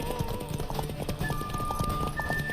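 A horse's hooves clip-clop steadily in The Witcher 3: Wild Hunt on PS5, the rhythmic clopping close and mixed with game sound and a faint tonal background.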